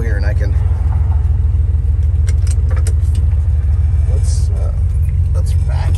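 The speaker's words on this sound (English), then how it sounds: "I'll just wait till these trucks" Trucks roll past on a road near a driveway, making a loud, continuous low rumble of engines and tyres that dominates throughout, with faint clinks and a voice occasionally in the background.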